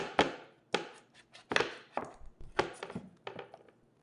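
A knife chopping through an ingredient on a cutting board while preparing a Moroccan tagine stew, a series of crisp, close knocks in an uneven rhythm, about eight strokes with lighter taps in between.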